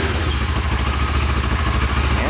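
A vehicle engine runs with a steady, loud idling rumble and clatter right after being jump-started with a Yaber battery jump starter, close and continuous with no talk.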